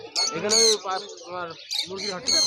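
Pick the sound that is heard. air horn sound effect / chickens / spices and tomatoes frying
chickens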